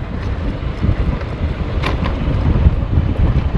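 Strong wind buffeting the microphone on a mountain pass among rolling hills, a loud, gusty, uneven roar with no voices.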